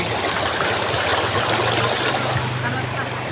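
Stream water flowing and burbling around feet soaking in it, a loud, close, continuous rushing wash with a faint voice beneath.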